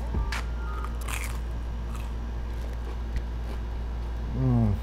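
Crisp crunching bites into a fried apple pie up close, a few sharp cracks spaced apart over a steady low hum, with a brief vocal sound near the end.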